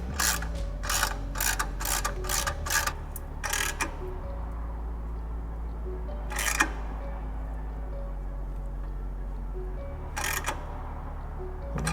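A ratchet fitted with a 10mm socket tightens an exhaust clamp during a motorcycle exhaust install. Several bursts of quick clicking come close and clear, with pauses and a steady hum in the background.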